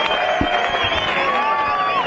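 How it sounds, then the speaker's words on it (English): A crowd at a rugby league first grade Maher Cup match against Tumut cheers a try, a steady roar of voices and whistles with a commentator talking over it. "And look at the crowd. They're going to go wild for this one."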